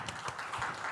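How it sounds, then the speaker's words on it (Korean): A church youth-service congregation claps together in a brief, dense burst of many hands that stays steady and fairly loud for under a second. "다 같이 박수 한번"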